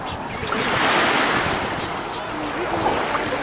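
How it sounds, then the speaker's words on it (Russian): Sea waves wash onto a beach in Thailand, a loud continuous roar of surf that swells and eases, mixed with gusty wind buffeting the microphone. "Море хорошее, приятное море."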